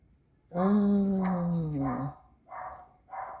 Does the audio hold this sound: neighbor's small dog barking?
yes